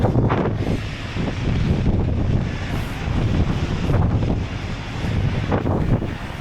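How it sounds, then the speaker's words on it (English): Skógafoss waterfall in Iceland roars as a broad, steady rush of falling water, heard up close with heavy wind buffeting the microphone throughout. "our post-lunch stop is a waterfall, a very famous waterfall. This is Skógafoss"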